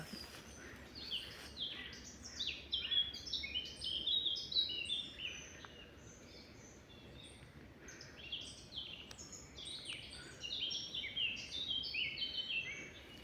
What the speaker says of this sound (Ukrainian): Як пташки співають.